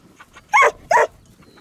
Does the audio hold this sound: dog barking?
yes